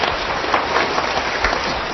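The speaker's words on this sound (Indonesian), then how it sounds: "Berikan tepuk tangan yang meriah." A congregation applauds during a church sermon, giving a steady wash of many hands clapping that stays even and fairly loud for the whole stretch, with no voices above it.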